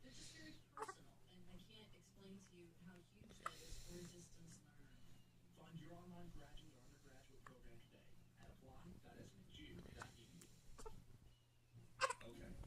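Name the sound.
baby hiccuping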